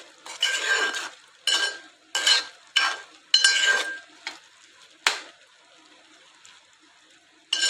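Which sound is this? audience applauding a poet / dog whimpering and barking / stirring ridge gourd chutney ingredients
stirring ridge gourd chutney ingredients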